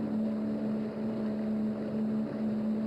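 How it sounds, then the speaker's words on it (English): A motorboat cruises on the calm waters of the Kaveri river, its engine humming a steady, close tone over a bed of wind and water wash, continuous and unbroken with no voices. "The sound of our motorboat unsettling the pervasive calm."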